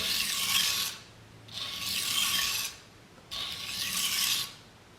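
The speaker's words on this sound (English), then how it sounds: "I'm going to sharpen the other side until I've erased that burr" A knife blade drawn across a plain 2x4 wooden board to sharpen it and remove a burr: three long, close, smooth rasping strokes with short pauses between, no voices.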